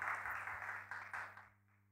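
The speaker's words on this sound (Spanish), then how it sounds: "un fuerte aplauso para Mabel." Church congregation gives Mabel a round of applause during a Sunday service, a dense wash of clapping that carries for about a second and a half before fading out.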